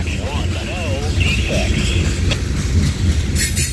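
A Norfolk Southern freight train led by NS 4381 on the Q40 rumbles past through Homestead, Pennsylvania, a loud, continuous low roll with a person talking excitedly over it.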